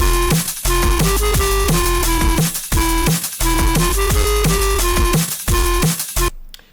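A fast old-school jump-up drum and bass track plays loud and upfront, with punchy kicks, snappy drums and heavy bass in a driving, repeating pattern before cutting off.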